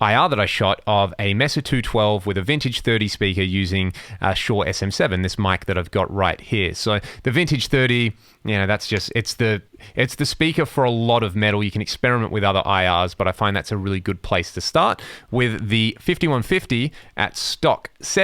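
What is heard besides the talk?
No distinct noise like a dog, phone or traffic.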